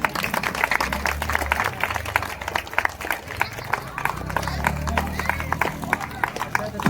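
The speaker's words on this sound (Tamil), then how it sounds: "கை தட்டலாம்." An audience at a ceremony honouring top-scoring HSC exam students claps continuously in a dense, steady patter, with a low murmur of voices running underneath.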